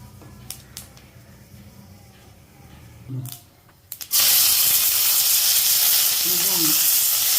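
Fennel seeds dropped into hot oil for a cauliflower and bengal gram curry burst into a loud, steady spluttering hiss after a few quiet kitchen knocks and a short voice, close and filling the room.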